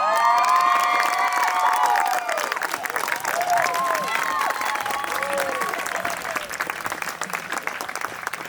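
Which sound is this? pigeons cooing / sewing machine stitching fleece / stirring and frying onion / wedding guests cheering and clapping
wedding guests cheering and clapping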